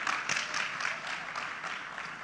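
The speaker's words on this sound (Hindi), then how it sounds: "एक बार जोरदार तालियां हो जाएं फॉर विकास दिव्यकीर्ति सर।" An audience at a Hindi motivational speech event in Mumbai breaks into dense, hearty applause for the speaker, a brief, loud run of overlapping claps with no talk over it.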